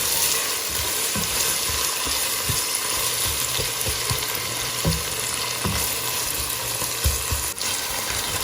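Tomatoes and green chilies fry in a pan for an omelette, a steady close sizzle throughout with occasional soft stirring knocks and no talk.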